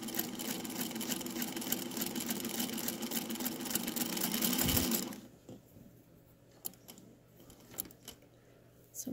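A Singer Featherweight sewing machine fitted with a quarter-inch foot runs at a fast, even mechanical whir for about five seconds, then stops, leaving faint handling clicks in near silence.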